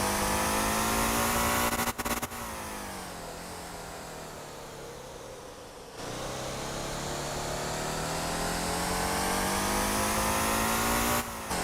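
Truck engine in Motor Town: Behind the Wheel, a Helldriver Mammoth build, held in second gear to slow down, a steady loud drone whose pitch sinks gradually, then a shift and the engine climbing again, with no talk.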